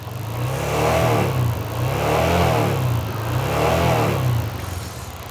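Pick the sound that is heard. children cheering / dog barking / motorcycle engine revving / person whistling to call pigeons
motorcycle engine revving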